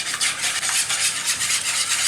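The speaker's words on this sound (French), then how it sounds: "Et on mélange bien." A spoon scrapes and stirs through a leek tart filling in a bowl, giving a steady, close, rhythmic swishing with no voices.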